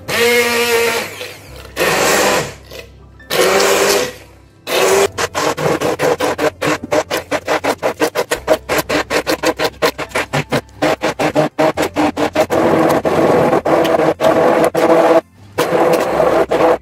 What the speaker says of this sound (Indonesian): Nah setelah ini ya, Mak pakai blender tangan aja.